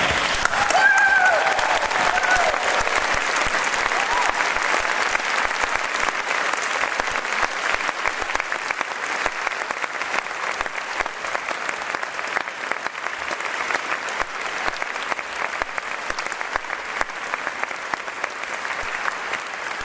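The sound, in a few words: audience clapping and cheering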